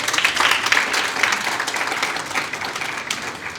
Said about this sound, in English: So let's give Dr. Vukuza first a special round of applause.